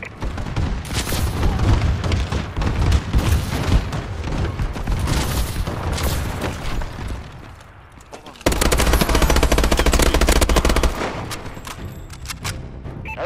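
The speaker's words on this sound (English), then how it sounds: "Friendly bombing run clearing the way!" Video game bombing run: dense bursts of machine-gun fire and booming explosions crackle continuously and loudly, dipping briefly before a heavy, sustained barrage of blasts and gunfire.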